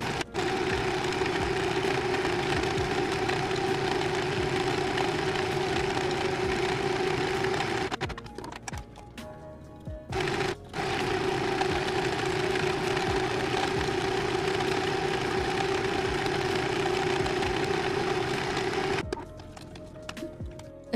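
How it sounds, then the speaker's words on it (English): A sewing machine stitches a straight seam on fabric for a sweetheart bustier crop top, whirring steadily and close up, with brief pauses between runs. "Now we're going to sew it along our seam line over here."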